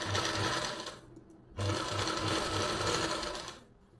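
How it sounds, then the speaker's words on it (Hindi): A sewing machine stitching a blouse neckline runs in two steady, close, whirring bursts with a rhythmic needle chatter and a brief pause between them. "नेक के बिल्कुल पास से सिलाई लगा लेंगे।"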